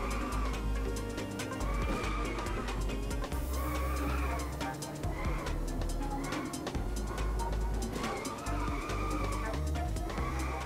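Car drifting and skidding in the racing video game Inertial Drift on Nintendo Switch: a steady, loud engine drone with tire squeal throughout, alone without talk.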